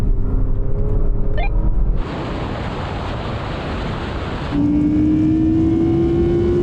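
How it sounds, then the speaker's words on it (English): A Porsche Cayenne Turbo GT and an Audi R8 accelerate hard side by side in a rolling drag race from 50 mph, a loud sustained roar with a sudden jump in intensity partway through and a rising engine whine near the end, with wind rush throughout. "Now we're going to have a rolling race from 50 miles an hour."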